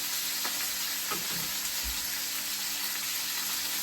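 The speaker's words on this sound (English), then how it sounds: "Now we're not searing it too much, just enough." Steak searing in a pan for a Chateaubriand sauce dish, a steady close sizzle and frying hiss throughout with a couple of soft scraping or stirring knocks, no talking.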